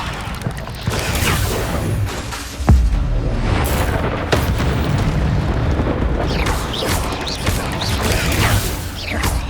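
Levioso spell cast in the video game Hogwarts Legacy, a dense magical burst with a deep boom near the start and layered whooshing, crackling effects filling the whole stretch, loud and busy with no talk.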